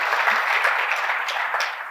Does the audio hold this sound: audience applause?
yes